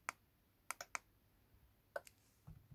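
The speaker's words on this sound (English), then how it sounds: "you can hear this wee relay clicking" A small relay in a homemade e-bike toy add-on clicks as its electric button is pressed, giving sharp isolated clicks near the start and a couple more later, close and fairly quiet with no talk.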